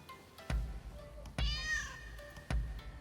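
Cat meowing in the Rise of the Ronin video game, with a clear rising-and-falling meow set among three sharp thumps, close and fairly loud against a low game background.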